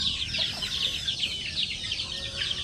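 Hungry chickens cluck in a continuous, overlapping chorus close by in their coop, with no voices over them.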